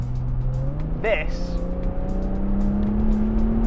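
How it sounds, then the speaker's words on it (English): A Jaguar F-Type V6 sports car engine drones at steady speed, its pitch slowly rising as it pulls, with a brief squeal-like burst near the middle and someone speaking briefly over it. "And that V6 is an absolute masterpiece."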